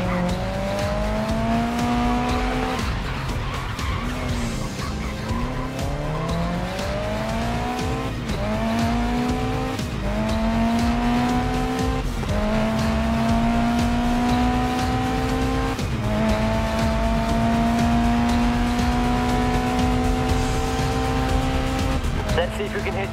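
A racing car in Grid Legends drifts through a handbrake slide, its engine revving in repeated rising sweeps while tires squeal over a constant loud roar, a voice talking underneath.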